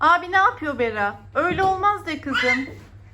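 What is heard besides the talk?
None of the usual background noises is heard.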